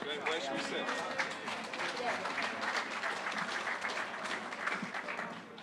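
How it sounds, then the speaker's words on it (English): Opening applause from an audience at a talk on the book "Silent Coup" with the author: sustained, dense clapping from a crowd, even throughout, with some faint voices mixed in. "So I'll have some opening applause"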